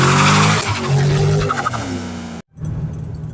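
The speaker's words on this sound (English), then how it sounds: "you can even see that the wheels were hopping, the tires were hopping" A 2006 Ford Mustang launches hard with its rear tires hopping. Loud, continuous tire scrubbing and engine roar fill the sound, cut by a sharp break of near silence before the noise resumes.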